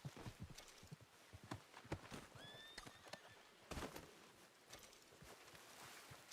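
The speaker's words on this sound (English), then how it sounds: "O cavalo não para." Horse neighing and clip-clopping hooves in the video game Red Dead Redemption 2, with a whinny rising over steady hoofbeats and scattered game noise, fairly close and moderately loud.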